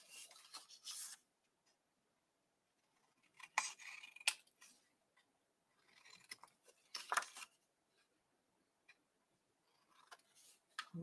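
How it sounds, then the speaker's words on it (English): Scissors snip through paper to miter album corners in a quiet craft room, a few short bursts of cutting separated by pauses, close and soft with no one speaking. "Let's miter the corners."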